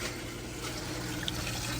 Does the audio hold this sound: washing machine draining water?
yes